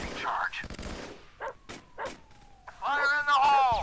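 K-9 police dog in a SWAT simulator video game gives a few short barks and yips, with a stronger burst of harmonic barking near the end alongside game sounds and speech.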